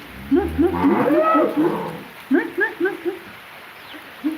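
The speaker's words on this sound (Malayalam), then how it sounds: "പശു ജൂലിയൊക്കെ അവിടെ ഉണ്ട്" A cow moos in a series of short, low calls close by, followed by a few more brief lowing sounds, with some background noise.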